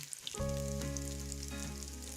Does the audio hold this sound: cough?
no